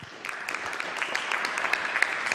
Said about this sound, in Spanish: Lo recibimos con este aplauso, por favor.